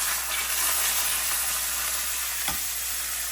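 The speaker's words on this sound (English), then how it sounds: "we're gonna grab the steak and carefully lay it down onto the pan" Ribeye steak searing in a hot cast iron pan gives a loud, steady sizzle that holds evenly throughout, with one brief louder crackle partway through.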